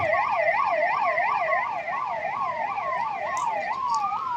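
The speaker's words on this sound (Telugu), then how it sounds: "అంబులెన్స్ కూడా ఈ ప్రదర్శనలో పాలు పంచుకుంటూ ముందుకు నడుస్తూ ఉన్నాయి" An ambulance siren wails in a steady rising-and-falling cycle as the vehicle moves in an Independence Day parade at the police parade ground in Anantapur. The siren is fairly loud and continuous, with faint traffic beneath it.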